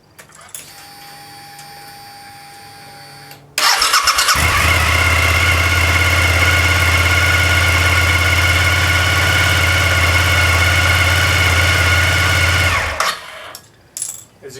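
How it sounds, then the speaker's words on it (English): Motorcycle engine cranked on a DIY lithium iron phosphate battery with BMS in cold weather without warm-up, catching quickly into a loud steady running roar that holds for several seconds before being cut off. "it has no trouble at all starting the motorcycle"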